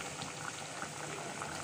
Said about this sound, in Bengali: বলক এসে পড়েছে